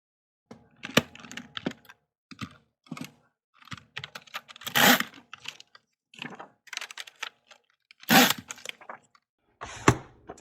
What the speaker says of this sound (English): So I grab my Pro Click here. Stick it in there.